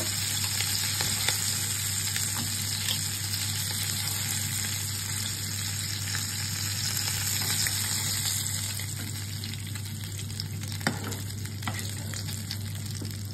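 Spicy marinated prawns fry in hot oil with a loud, continuous crackling sizzle that runs throughout, close by and without speech, easing slightly toward the end.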